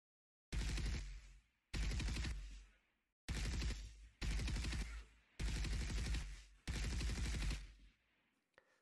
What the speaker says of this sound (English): we stop our looping rifle weapon sound, and then we spawn the end shot sound